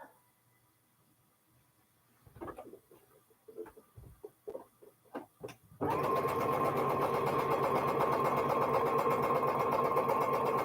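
A sewing machine pieces quilt blocks, first in a series of short, separate stitching bursts, then settling into one loud, continuous steady whir that runs to the end.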